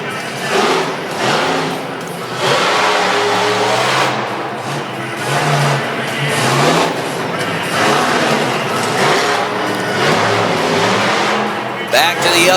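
A monster truck engine roars and revs hard through a big wheelie in an arena, loud surging waves of engine noise rising and falling, with an announcer talking over it.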